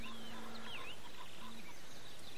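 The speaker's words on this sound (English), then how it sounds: "I hear the chucker." A chukar partridge calls in a quiet canyon, giving a few soft, repeated clucking notes at a distance, faint against a low outdoor background.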